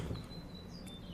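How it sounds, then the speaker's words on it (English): Faint high-pitched bird chirps drift in from outdoors over a quiet, low background hum, with a few thin whistled notes. "Do you guys hear the birds chirping?"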